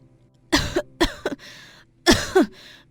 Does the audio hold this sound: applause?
no